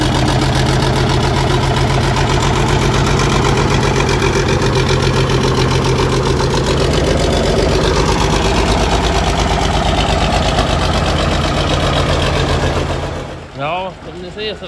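A machine's engine idles steadily and loudly up close for most of the stretch, running unevenly and not quite right, before cutting down near the end as a voice speaks.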